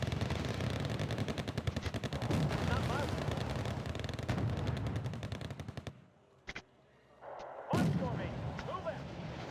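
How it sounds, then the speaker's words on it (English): Rapid rumbling bursts of M1 Abrams tank cannon and gunfire in the Wargame AirLand Battle game during urban combat, a sustained barrage that drops away briefly before a sharp blast and renewed fire. "I need my Abram to fire a bit faster."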